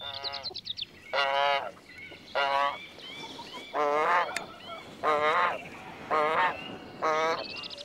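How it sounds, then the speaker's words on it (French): A domestic Guinea goose, descended from wild African geese, honks in a farmyard, giving about seven loud, harsh calls in a steady rhythm, close by, with a low voice talking faintly underneath. "L'oie de Guinée, dont l'élégance évoque le cygne, est la descendante des oies sauvages d'Afrique"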